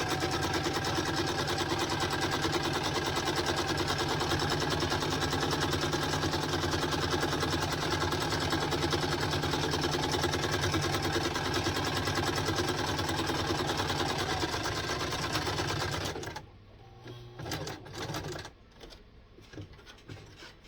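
A sewing machine stitches a cloth menstrual pad, running as a steady close mechanical whir for about sixteen seconds before stopping, followed by a few short quieter bursts of stitching.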